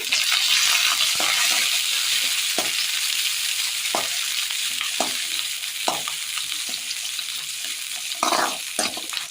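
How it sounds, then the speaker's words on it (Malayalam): Ginger, garlic and shallots sauté in a pan for a Kerala pearl-spot fish curry, giving a loud, steady frying hiss broken by regular scraping strokes of a spatula, close and with no one speaking. "ഇത് നന്നായി ഒന്ന് വഴറ്റിയെടുക്കാം."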